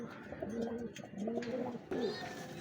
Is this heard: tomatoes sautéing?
no